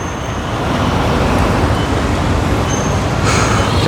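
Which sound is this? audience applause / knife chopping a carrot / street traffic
street traffic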